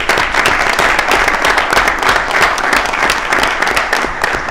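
Sustained applause at a JAXPORT Board of Directors meeting for port staff, a dense, loud and even clatter of many hands clapping throughout without a break.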